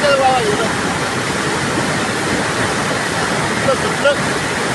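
Rising floodwater in Moshi, Pune rushes past in a steady, loud, broadband roar that stays constant throughout, close by with no talk.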